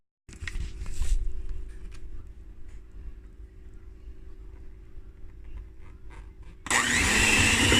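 An electric mixer beats cream cheese icing made with powdered sugar, margarine and vanilla, a steady low motor hum that rises into a loud, bright whir near the end.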